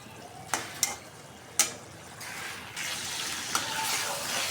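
Garam masala, cinnamon and cardamom stirred in a pan for egg and potato curry, heard as a few sharp spoon scrapes and taps over a quiet sizzle that grows a little louder near the end, with no talk.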